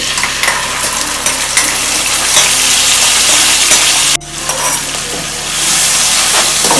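Ground masala frying in a pan with curry leaves and coriander, a loud, close, crackling sizzle broken by stirring scrapes, dropping briefly and then swelling back up.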